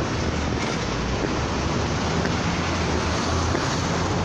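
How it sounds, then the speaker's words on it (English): Strong wind blasts steadily across a microphone while walking downtown in Chicago, Illinois, a loud, continuous broadband rumble and roar filling the whole stretch with no pause. "It is windy out here for real."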